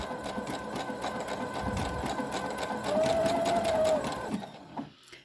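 A sewing machine stitches a buttonhole on a patch-appliqué dish towel, running in a steady, fast mechanical chatter that rises briefly louder near the end before stopping.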